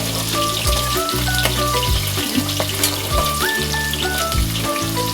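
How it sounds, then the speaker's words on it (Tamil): Garlic sautéing in hot oil in a pan, a loud, steady sizzle close up, crackling continuously with occasional stirring clinks and no voices. "பூண்டு நல்லா கொஞ்சம் வதங்கினதுக்கப்புறம் வெங்காயத்தை போட்டுக்கலாம்."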